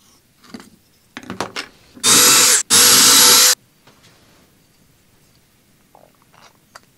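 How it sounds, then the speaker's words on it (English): A power drill pre-drills holes into a wooden workbench, two loud whirring bursts about a second each with a brief gap, preceded by handling clatter and followed by quiet shop noise. "What I'm doing now is just lining up where I want to pre-drill for the match"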